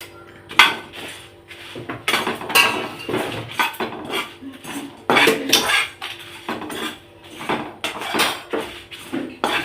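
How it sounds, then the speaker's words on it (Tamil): Peppercorns, chillies, coriander seeds, cumin and dry ginger being dry-roasted in a pan for a traditional Tamil fish curry, with irregular close scraping and clattering of a spoon against the metal pan in uneven bursts. "இனி சட்டியில் போட்டு வறுக்கணும்."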